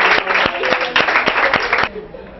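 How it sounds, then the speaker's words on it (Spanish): Audience applause at a short-film competition awards ceremony, loud and close with sharp individual claps over a dense clapping wash, fading out abruptly after about two seconds. "Un aplauso para ellos."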